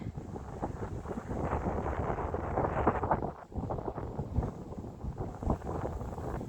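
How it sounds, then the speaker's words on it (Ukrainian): Strong wind blowing snow by a bay buffets the microphone in continuous low rumbling gusts, loud and steady, with a brief lull partway through. "Сьогодні сильно вітряний день. Вітер такий прямо зносить сніг."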